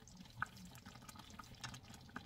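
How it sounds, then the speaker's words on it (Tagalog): About a cup of water poured into a cooking pot of chicken arroz caldo, soft close liquid splashes and drips, faint and brief. "Dinagdagan ko ng tubig ng mga about 1 cup."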